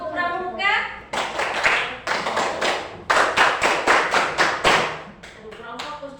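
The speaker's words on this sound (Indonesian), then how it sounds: "Tepuk pramuka." A primary school class in Indonesia performs the scout clap rhythm, tepuk pramuka, with loud, close, syncopated bursts of many hands clapping together after the teacher's brief call.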